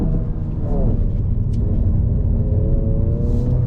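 A 2022 Honda Civic Si engine pulls hard under throttle, its rising rumble and climbing tone heard from inside the cabin over steady road noise.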